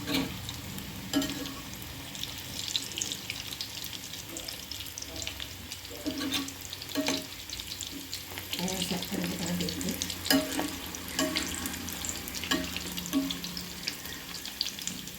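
Mutton kola balls frying on a medium flame, a continuous sizzle with repeated scraping and turning clatters throughout, some faint background sounds.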